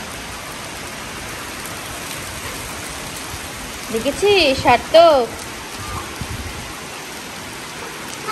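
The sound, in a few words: rain falling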